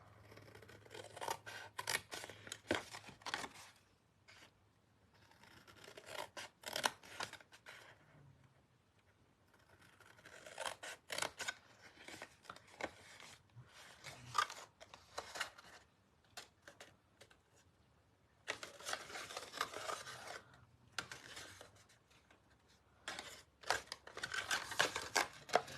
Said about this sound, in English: And then we need to cut these.